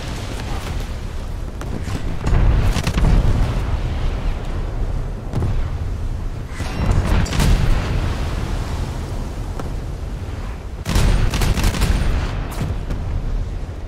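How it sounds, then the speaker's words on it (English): Five-inch naval gun shells strike a destroyer in a naval combat game as a series of heavy booming explosions. Several loud bursts sit over a constant low rumble, and no one speaks. "those 5-inch guns hurt when they hit"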